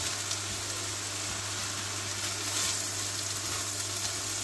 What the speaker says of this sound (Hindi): अब हम डालेंगे अदरक लहसुन का पेस्ट 2 टेबल स्पून है